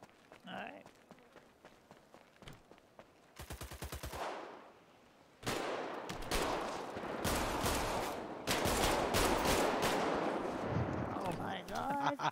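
GTA 5 gunfire comes first in short sparse bursts and then builds into heavy sustained automatic fire with rapid repeated shots and running footsteps, and voices can be heard talking over the shooting.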